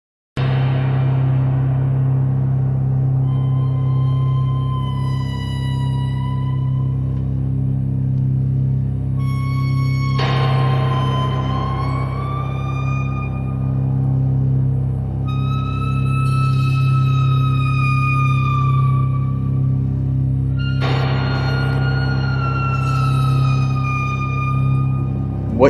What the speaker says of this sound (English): is the opening track to Huang Jiangxin's 1986 film Shuo Wei